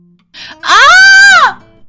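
A woman screams in fright in a haunted government bungalow drama, a single long rising-and-falling shriek lasting about a second, loud and close, preceded by a short gasp.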